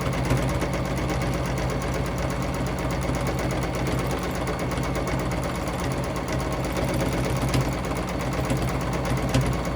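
A sewing machine does free-motion quilting on a Mini Stacks quilt, running at a fast, steady rhythm of rapid needle strokes with a constant mechanical whir and no talking.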